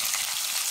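Chopped onions with cumin and torn dried red chillies frying in a pan for a tempering: a dense, steady, close hiss of sizzling oil with no talking.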